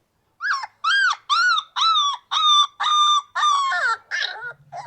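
A recorded puppy's high yips replayed through a speaker, about eight short barks in a steady rhythm, loud and close, ending in a few rougher whimpering yelps with no talk over them.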